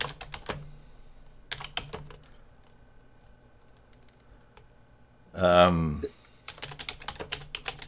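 Keys clatter on a computer keyboard in scattered bursts of close, crisp clicks, with a short spoken word from a man midway through.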